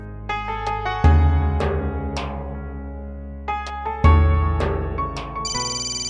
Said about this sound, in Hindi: फोन लगा रहे हैं पीयू को।